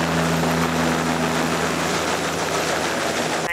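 A helicopter carrying an injured man from a traffic accident scene, its loud steady rotor and engine drone close and continuous throughout, with no voices.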